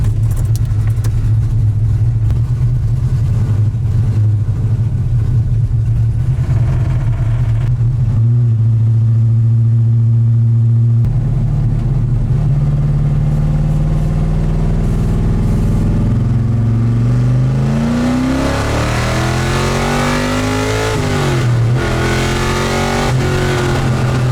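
A Mazda Miata swapped with an LS3 V8 and running nitrous idles with a deep, loud rumble, then revs up in several rising and falling sweeps, recorded up close with no talking.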